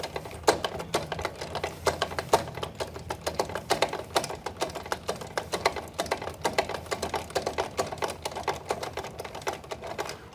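A trailer jockey wheel is cranked up by hand, giving a fast, steady run of dense mechanical clicks and ratcheting ticks that continues evenly throughout, close and fairly loud.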